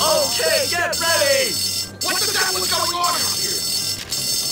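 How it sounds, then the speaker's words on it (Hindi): A fire alarm in the video game Bully rings continuously as a steady, high-pitched electronic bell. Voices talk loudly over it. "फायर अलार्म बजाओ"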